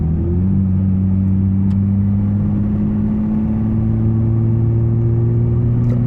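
A Nissan Skyline R34 pulling in second gear, a loud continuous engine drone with a steady low hum that climbs gradually in pitch as the car accelerates, heard from inside the cabin with no talking.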